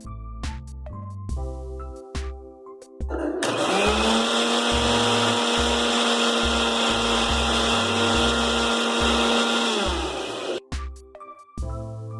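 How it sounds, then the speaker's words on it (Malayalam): A blender whirs loudly and steadily for about seven seconds, beating oil into homemade mayonnaise, with background music before and after the run. "ഇനി വീണ്ടും ഇതിലേക്ക് 2 ടേബിൾ സ്പൂൺ എണ്ണ ഒഴിച്ച് ബാച്ചായിട്ട് അടിച്ചെടുക്കുക"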